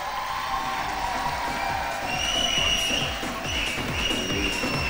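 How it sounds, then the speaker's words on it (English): At a dental college annual day, an audience claps and cheers with a steady wash of applause and a few whoops. The sound is dense and sustained and seems to fill a large hall. "he deserves a big round of applause."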